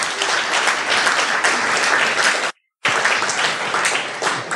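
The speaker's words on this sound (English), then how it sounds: "Yay, applause." An audience at the Nextcloud Conference 2022 applauds an honorable mention award announcement with dense, loud, sustained clapping that cuts out briefly to silence before resuming just as strongly.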